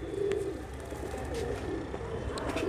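Soft, low coos of Rajasthani pigeons murmur through a steady background hum, with a few faint higher chirps; no one speaks.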